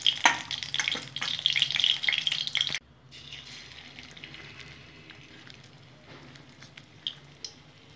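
Prawn pakoras with spring onion and lentil paste deep-fry in oil over high heat, a loud crackling sizzle for the first few seconds that abruptly drops to a quieter, steady bubbling hiss.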